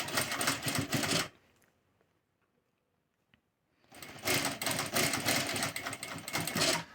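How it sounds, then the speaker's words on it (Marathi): A sewing machine stitches piping onto a square neckline in two loud, rapid whirring bursts, one at the start and one at the end, with a near-silent pause between them. "परत सुरुवात करायची आहे टीप मारायला"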